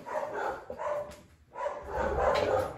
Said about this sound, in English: Sorry about my dogs, they're going crazy as usual.